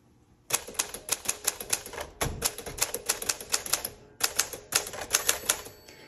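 A 1956 Smith Corona Sterling typewriter types close up, with rapid sharp keystrikes in quick bursts, a brief pause with a low thunk partway through, then more crisp, even clacking.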